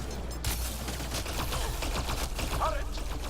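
A rapid burst of gunfire in Mass Effect Andromeda rattles under a busy game mix, with brief voices and background music layered over the shots.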